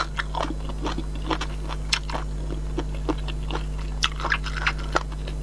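Chewing and biting boneless chicken feet, close-up crunchy bites and wet mastication in an irregular rhythm over a steady low hum, with no talking.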